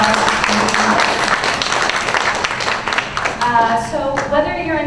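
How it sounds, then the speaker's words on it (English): Audience at a Korean American career summit applauds in a loud, steady wash of clapping that fills the room, with voices rising over it near the end. "So let's give them all a round of applause"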